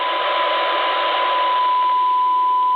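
A steady hissy test tone comes from a handheld radio during a harmonic test, loud and constant with a thin pure whine running through a broad noise band.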